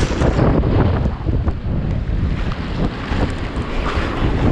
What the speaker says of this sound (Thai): ดูความเป็นลมมันเลย